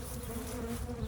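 Bees buzz around a backyard beehive during an inspection, a steady close droning hum with no break and no talking.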